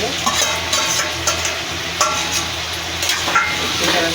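Potatoes stirred into fried masala in a pan for a Bihar-style kavach sabzi: a steady sizzle with repeated scraping strokes of the spoon at a moderate pace, close and fairly loud.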